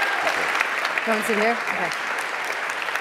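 Audience applause in a talk-event hall welcoming a guest to the stage, continuous dense clapping throughout, with a brief spoken exchange near the middle over it.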